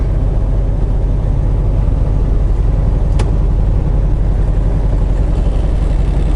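A semi truck's engine drones loud and steady while cruising at highway speed, governed near 70 miles per hour, an unbroken close hum from inside the cab.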